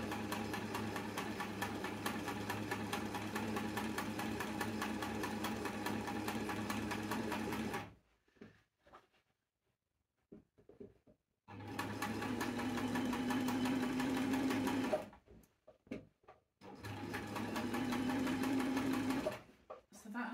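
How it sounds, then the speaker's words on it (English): A sewing machine runs slowly on its widest zigzag stitch, making a close, steady whirring chatter in long runs broken by quiet pauses and short stops. "I've got this set on the widest zigzag stitch, and I'm going to go quite slowly."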